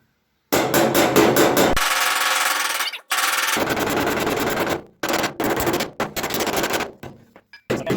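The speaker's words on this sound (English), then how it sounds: "This one's going to require a hammer" Rapid hammer blows on the sheet metal of a car body tub floor, loud metallic bursts of fast strikes separated by short pauses, close up and without talk.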